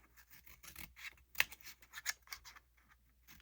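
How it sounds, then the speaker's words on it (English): Scissors snipping paper for artist trading cards, a string of quiet close-up crisp cuts and rustles with one sharper snip in the middle, no talking. "I think I'm just going to Need to cut some paper."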